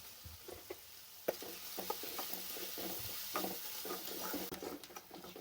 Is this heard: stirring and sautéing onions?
yes